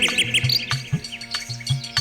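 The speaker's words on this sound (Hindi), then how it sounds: "कोयल कूक रही" An Asian koel and small birds call outdoors in rainy weather, with repeated close, loud chirps and calls falling into a rhythmic back-and-forth pattern.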